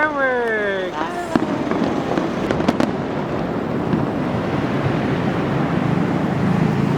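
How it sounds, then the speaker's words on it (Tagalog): Fireworks crack and boom repeatedly amid a constant roaring rumble in Bonifacio Global City, Manila, with excited voices shouting at the start. "Yay! Fireworks!"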